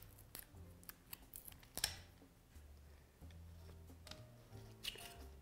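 Scissors snip through the wick-holder stick of a herbal garden candle, giving several sharp, close cuts at an uneven pace, with soft handling noises in a quiet room.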